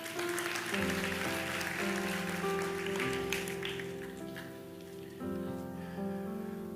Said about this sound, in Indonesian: Kita berikan tepuk tangan bagi Tuhan.